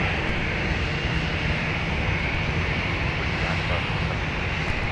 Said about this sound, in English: Holy cow, that's another go around.